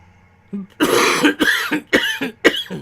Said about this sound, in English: Gonna cough.